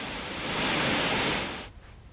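Water gushes through the nine opened gates of Tawa Dam in Narmadapuram after continuous rain, a dense, loud, steady roar that cuts off abruptly near the end.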